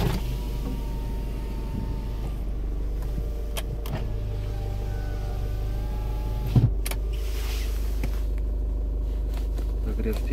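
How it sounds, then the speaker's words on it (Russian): Hyundai Tucson side mirror folding: a steady electric motor whine over a constant low cabin drone, with a brief click partway through and no talking. "Зеркало складывается"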